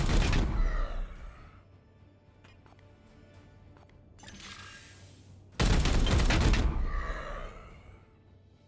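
Gunfire from a squad member in Warhammer 40,000: Chaos Gate - Daemonhunters, two loud bursts of shots with a fainter rattling burst between them, each ringing out and decaying, no talk.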